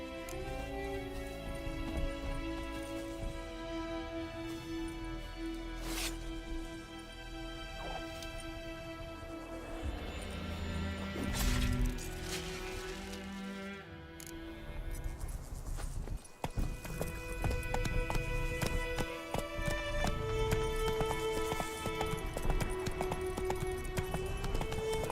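Horse hooves clip-clopping in The Witcher 3: Wild Hunt, a steady rhythmic trot heard close over game music and ambience, continuing throughout with a brief shift in pace midway.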